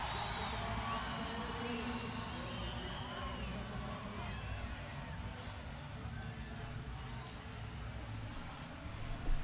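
Crowd at a wheelchair basketball game, Great Britain against Brazil at the Rio 2016 Paralympics, roaring and cheering steadily in a large arena, with whoops rising over a constant wash of babble.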